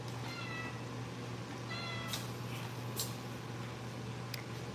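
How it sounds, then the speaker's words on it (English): A cat meows several times, short clear calls spaced out over a steady low hum, with a few faint clicks in between. "There's a Julie the cat."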